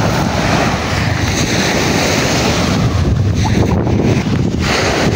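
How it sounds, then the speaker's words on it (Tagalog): Rough, heavy surf along a beachfront lot in Buenavista, Quezon, on a stormy day, a loud, continuous wash of waves mixed with wind buffeting against the microphone and no speech. "medyo malakas po ang alon ngayon at medyo malabo po yung dagat"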